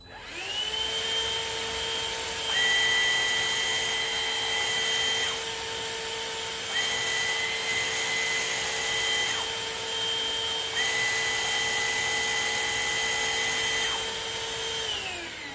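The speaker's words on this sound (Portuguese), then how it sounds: "Então eu vou ligar agora primeiro o aspirador, bem vertical" A Midea VSB16B stick vacuum cleaner runs with a loud, steady whine and motor hum, its pitch stepping up and down as speed settings change, close by.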